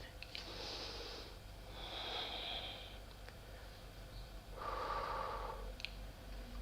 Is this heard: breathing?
yes